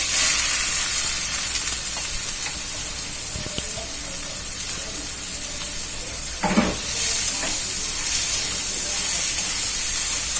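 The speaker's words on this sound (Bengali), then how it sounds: "এখন আমি তেলে কিছু রসুন দিয়ে শাকটা তেলে দিয়ে দিচ্ছি।" Greens hit hot oil with garlic in a wok, giving a steady, close sizzling hiss that runs the whole time. There are a few brief clatters from stirring, and no one speaks.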